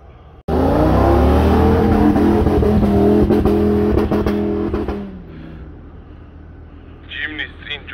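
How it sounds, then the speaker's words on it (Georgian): Off-road cars on a mountain track at Didgori, one loud engine roaring close and revving hard with rough rumble, then easing off and fading, while faint bird chirps rise near the end. "ველოდებით ახლა ჩამოვიდნენ მანქანებიც და გავაგრძელებთ გზას."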